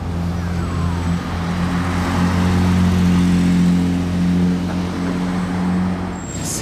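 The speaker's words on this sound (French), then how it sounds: "Ah bah GT3 là, qui revient." A Porsche 911 GT3 sports car, the 992 phase 2 Spirit 70 special edition, rolls past nearby with a steady low engine drone that stays loud throughout, with no talking over it.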